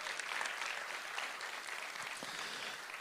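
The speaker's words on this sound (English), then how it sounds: "Let's give them a round of applause." Applause from an audience at the Tasmania Australian of the Year Awards ceremony, a dense, steady wash of clapping from a large crowd that carries on evenly throughout.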